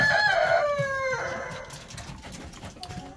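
A blind hen gives a loud, drawn-out call up close, then fades into softer clucks over faint rustling.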